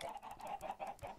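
Chickens in the Minecraft video game cluck in a quick, regular series of short, mid-pitched bursts, fairly close and with no voices over them.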